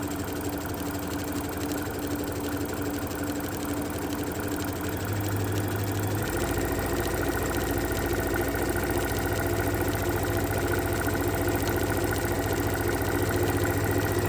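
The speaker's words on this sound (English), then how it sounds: "Get to the end of it, we can just sew straight through." A sewing machine runs steadily while stitching the seam of a fabric kitchen pot holder, a continuous mechanical hum and whir that holds for the whole stretch, close and with no talk.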